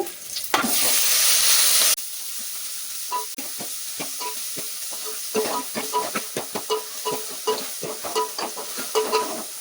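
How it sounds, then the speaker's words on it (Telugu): Chopped tomatoes and curry leaves fry in a pan, a loud hiss bursting out at first and settling into steady sizzling, with rhythmic scraping and tapping of a spoon stirring through. "ఈ విధంగా వేగాలి."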